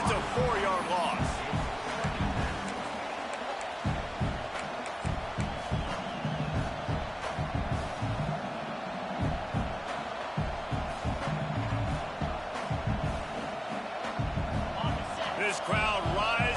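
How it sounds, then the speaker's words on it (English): A large football stadium crowd roars in a steady, dense wash of noise during a Penn game, with a commentator talking over it throughout. "This crowd rising up,"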